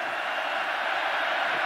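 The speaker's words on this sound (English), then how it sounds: "Crowd comes to its feet." A college football stadium crowd at the 1999 Texas versus Texas A&M game roars in a loud, steady, unbroken wash of voices as fans rise to their feet.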